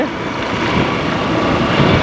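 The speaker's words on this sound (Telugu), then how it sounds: "సో నీళ్ళు అయితే చాలా ఫోర్స్గా వస్తున్నాయి ఆ వాటర్ చాలా దూరం అయితే ట్రావెల్ అవుతున్నాయి" Water rushing forcefully down a stream in the Nallamala forest near Giddalur, a close, dense and steady roar that holds at an even level for the whole stretch with no voices over it.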